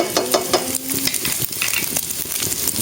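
An egg frying in a pan until golden brown, a loud, dense crackling sizzle with repeated scraping stir strokes throughout, close and continuous.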